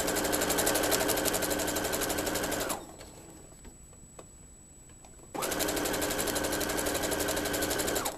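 A sewing machine stitches batting onto a Christmas stocking in two steady runs of rapid, even needle chatter, separated by a pause of a few seconds in the middle, loud and close with no talk.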